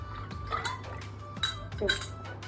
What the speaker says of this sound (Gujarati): હવે છે ને આ બે વાસણને આપણે પાછું ચોખ્ખા પાણીથી ધોઈ નાખીએ.